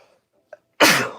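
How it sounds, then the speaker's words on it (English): A single loud, sharp human sneeze bursts out after a brief silent pause and a tiny intake of breath, ending with a quick exhale. "I gotta sneeze."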